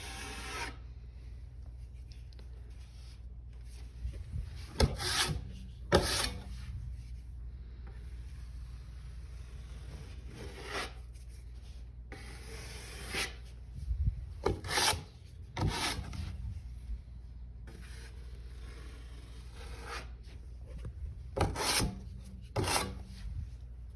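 Drywall patch compound worked by hand, with intermittent rough scraping and rasping strokes that come in short bursts and pauses, close and fairly quiet over a low room hum.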